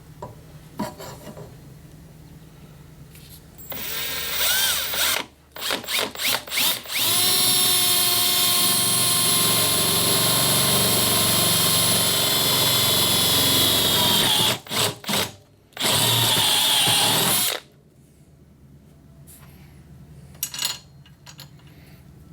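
A power drill with a step bit whines through a metal transmission crossmember in long, loud bursts with short pauses, a high grinding screech between quieter stretches.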